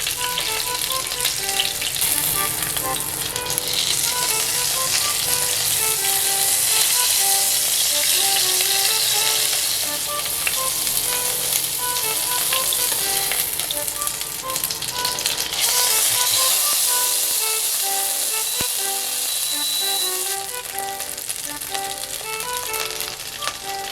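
Hamburg steak frying in a pan sizzles loudly and densely throughout, a continuous crackling spatter with a busy rattling texture and no talk.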